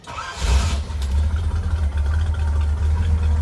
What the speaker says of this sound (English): So I'll go ahead and start it up.